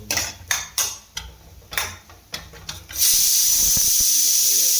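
Loud, steady sizzling of meat frying in a pan takes over after a few seconds of utensil clatter and stirring.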